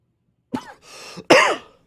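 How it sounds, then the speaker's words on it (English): A person coughs once, then clears their throat in a drawn-out rasp and gives a final harsher cough, all close and clear against silence. "I got a cough."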